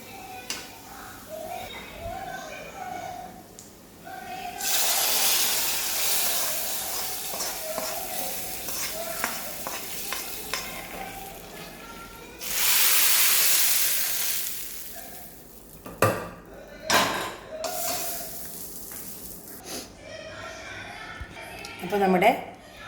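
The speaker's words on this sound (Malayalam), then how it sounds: "ഇനി നമ്മുടെ കറിയിലേക്ക് ഇത് ഒഴിച്ച് കൊടുക്കാവേ." Fried onion mixture poured into a drumstick and mango curry, giving loud bursts of sizzling and frying that rise sharply twice, with stirring and clinking of pans between and a voice speaking over parts of it.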